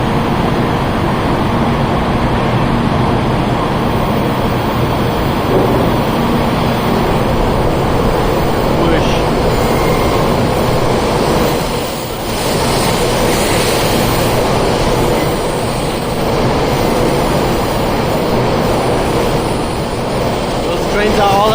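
A high-speed electric train rushes past a station platform, a loud, sustained broadband roar lasting about twenty seconds, with people talking over it.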